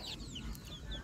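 A Rhode Island Red chicken among breeder flock birds, short soft clucks and chirpy calls, close and fairly quiet, in a single brief burst without talk.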